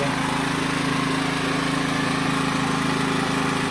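A Kamastsu KS3800E petrol generator engine running at a steady, loud, even drone, close by and unbroken throughout, with no voices.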